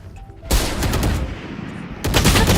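Dense bursts of rapid gunfire from a shooter video game, loud and close, with a sustained volley cut by a brief lull before another heavy barrage.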